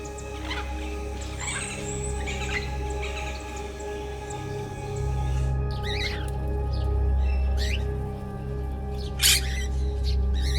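Sparrows chirp in short, scattered bursts near outdoor trees in rain, the calls clustering more densely in the second half over a steady, continuous background wash.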